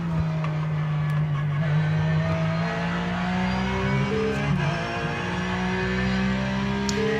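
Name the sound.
Porsche 911 race car engine in iRacing video game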